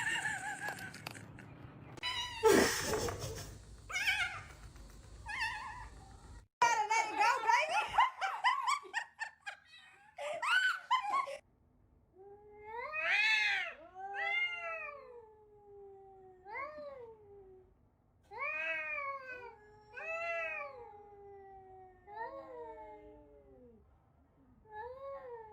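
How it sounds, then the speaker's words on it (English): A small kitten, first mistaken for a bobcat, gives a series of repeated high meows, about ten distinct cries spaced over several seconds, following earlier scuffling and thumping noises close to the microphone. "I told you it was a little kitty."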